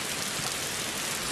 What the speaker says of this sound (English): And it's raining, I know, this had to be done, guys. It rains constantly in this game.